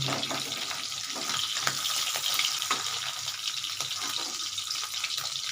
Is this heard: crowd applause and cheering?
no